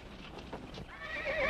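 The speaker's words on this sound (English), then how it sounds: "Quiet those horses." A horse whinnies loudly with a rising, wavering neigh, following soft hoof clops, close and unobscured by speech.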